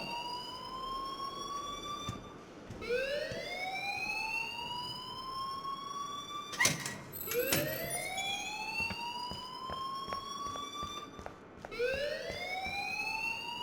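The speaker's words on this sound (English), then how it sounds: "please turn off that alarm since that's your job" Fire alarm ringing inside a school building in the video game Life is Strange, a loud electronic siren that sweeps upward in repeated rising wails, each cycle about four seconds, with a couple of sharp clicks partway through.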